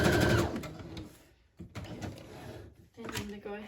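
A sewing machine stitches a crocheted leaf trim onto a cover, running in short bursts with pauses between, close and moderately loud, while a person talks over it.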